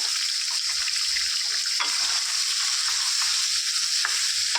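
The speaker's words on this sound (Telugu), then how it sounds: "ఒక వన్ కేజీ చికెన్ స్లోగా వేసుకోవాలి ఫ్రెండ్స్ ఆయిల్ మీద పడుతుంది" About a kilogram of raw chicken goes into hot oil in a pan for chicken fry, producing a loud, steady sizzle and crackle with occasional stirring scrapes. No one speaks over it.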